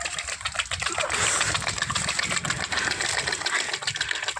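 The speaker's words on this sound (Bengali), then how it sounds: "জেনারেটর লোড নিয়ে শুরু করে দিয়েছে।" A homemade non-electric generator runs under load with a steady, dense mechanical whir and rattle, loud and continuous with fast clicking texture throughout.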